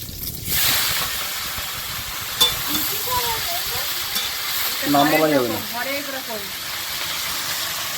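Leafy greens frying in oil with dried red chili hiss loudly and steadily, with occasional stirring clinks, while voices talk over the sizzle midway.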